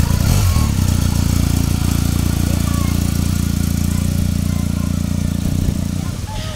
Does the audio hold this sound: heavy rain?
no